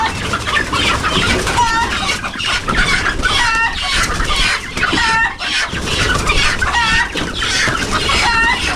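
Many chickens cluck busily and continuously at close range, with occasional louder squawks rising over the steady flock noise.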